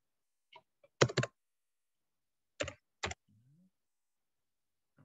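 Several sharp keystrokes on a computer keyboard, including the Enter key, come in short separated clusters of clicks, close and fairly quiet, with near silence between presses.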